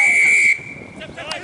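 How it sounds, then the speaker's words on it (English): A rugby league referee sounds a penalty whistle: one loud, strong, steady blast lasting about half a second, followed by faint background noise from the field. "Good penalty whistle, I like that, nice and loud and strong."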